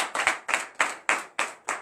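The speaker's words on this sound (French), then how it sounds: "Donne l'acclamation à Jésus." A church congregation at a morning prayer service in Benin claps in acclamation, six loud rhythmic claps at a steady beat, each with a short ringing tail, and no voices over them.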